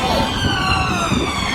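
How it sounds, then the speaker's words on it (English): Car horns blare in a dense, sustained wash at a street independence march, several overlapping tones holding steady and loud throughout without letting up. "Listen to those car horns."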